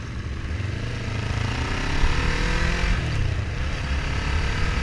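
A Subaru WRX's engine roars and builds as it accelerates past, loud and close, its pitch rising over a few seconds before holding steady.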